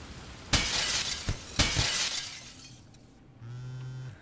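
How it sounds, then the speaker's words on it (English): Plate glass window shattering in the Gunpoint video game, with two loud crashing bursts of breaking glass a second apart, followed by a tinkling tail that fades, and then a steady electronic hum. "Were you just thrown out of a plate glass window?"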